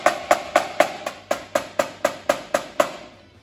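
Snare drum struck repeatedly with the stick edge near the tip, about eleven sharp, evenly spaced strokes in a steady rhythm, close and fairly loud, each with a brief ringing decay.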